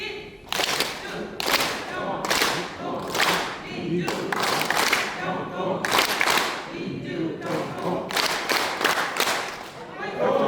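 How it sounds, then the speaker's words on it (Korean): A seated audience at a regional council meeting in Jeonju claps together in a practised rhythmic cheer, sharp bursts of many hands repeating in a steady patterned beat, loud and close throughout. "민주평통 박수 준비"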